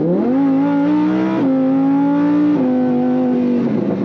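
From inside a Lamborghini Huracan 610-4, the engine drones loud and close and climbs in pitch, with quick gear changes dropping the note twice before it pulls again.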